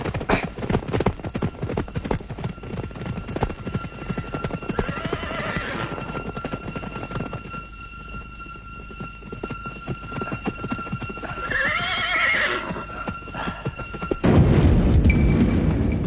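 Horses in a period drama chase scene whinny twice, long and high, over a dense, rapid clatter of hooves and rumbling action noise, ending in a heavy burst of sound.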